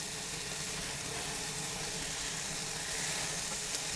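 Korean short ribs in a sugary marinade sizzle steadily on a hot grill while being flipped, a soft, even crackling hiss that carries on without pause and without voices.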